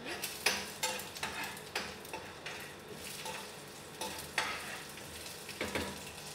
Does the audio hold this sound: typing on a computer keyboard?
no